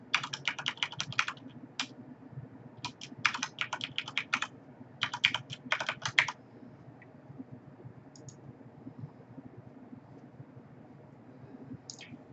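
Password typed on a computer keyboard: three quick bursts of crisp close keystrokes, then near silence broken by a couple of isolated key clicks.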